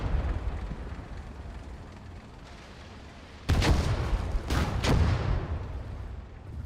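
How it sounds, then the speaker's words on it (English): Heavy explosions rip through a World War II battle in the Gates of Hell game, two loud, sharp blasts a second apart over a low rumbling background, with no speech. "That is the sound of my things blowing up."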